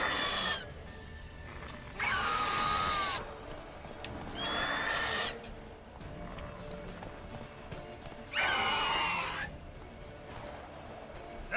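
Horse hooves clip-clop at a steady gallop in The Witcher 3 game, with several loud whinnies and neighs breaking out over the running rhythm.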